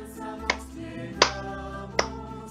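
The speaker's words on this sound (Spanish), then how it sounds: "Sigo el pulso primero con las palmas." Three sharp, evenly spaced hand claps ring out over soft background music, keeping a steady beat.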